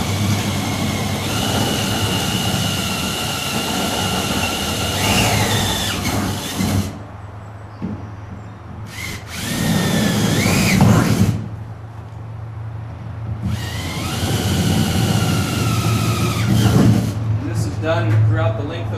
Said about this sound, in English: We're now going to open up the pilot holes that we previously drilled at 1/8 inch diameter to a full 1/4 inch